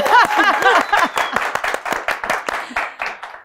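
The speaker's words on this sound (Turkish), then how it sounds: "Fazla alkışlamayalım, gerilim olmasın." Loud, close audience applause at a Turkish television talk show, a steady patter of many hands clapping throughout, with a few voices and cheers mixed in near the start.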